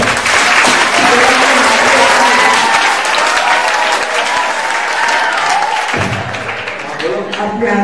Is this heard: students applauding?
yes